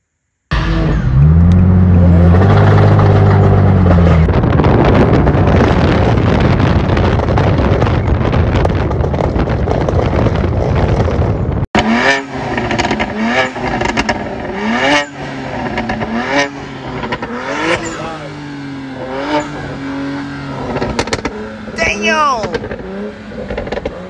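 A BMW's exhaust pops and crackles loudly at night, first under a heavy engine roar, then in sharp repeated bangs as the revs rise and fall, with wind noise throughout.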